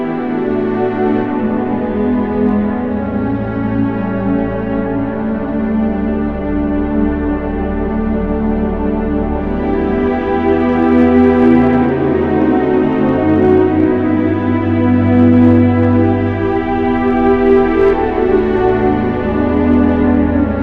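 Sustained keyboard strings part for a Ghanaian local worship song, played with a studio sound, with layered string tones over a steady low bass, swelling slightly louder midway and continuing without any voice.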